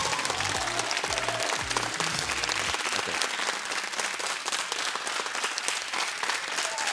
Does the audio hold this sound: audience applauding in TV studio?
yes